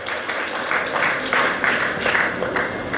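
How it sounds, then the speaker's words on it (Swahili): A wedding audience applauds in a steady, dense patter of many clapping hands that continues throughout at a moderate distance. "Makofi tafadhali."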